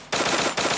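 Automatic gunfire in the Free Fire mobile game: two loud, close, rapid bursts of shots, the first starting after a brief quieter lead-in.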